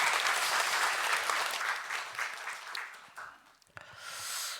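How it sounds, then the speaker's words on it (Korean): A congregation at a Sunday morning worship service gives a round of applause after the choir's hymn. The clapping is full and lively at first, then thins and fades out, and a brief swell of sound follows. "하나님께 영광의 박수 올려드리겠습니다"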